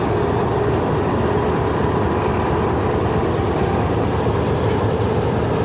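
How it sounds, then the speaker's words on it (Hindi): Steady loud rumble and rattle from inside the Lasani Express passenger train rolling along the rails, a dense continuous roar with faint rhythmic clatter and no voices. "दोस्तों 4:51 पर रवाना हुई है ट्रेन काला खताई से।"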